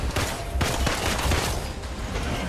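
Dense, rapid gunfire shooting at vents in Marvel's Avengers, a loud continuous fusillade of overlapping shots with no pauses.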